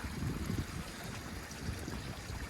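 A clear stream at a water source on the Appalachian Trail in southern New York babbles steadily, a soft continuous rushing trickle heard faintly with no talk.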